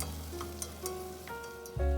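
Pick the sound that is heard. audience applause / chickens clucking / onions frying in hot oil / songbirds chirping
onions frying in hot oil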